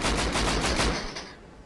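Rapid automatic gunfire from the Rust video game, a loud close burst of repeated shots lasting about a second before tailing off into reverberation.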